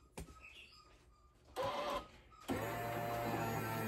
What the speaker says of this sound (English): if I just press the espresso, you're going to hear it grind the beans